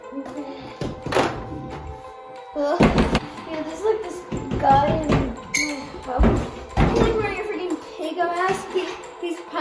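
Heavy knocking on a door in a tense horror scene: several loud, irregular thuds in bursts, mixed with nearby voices and someone talking.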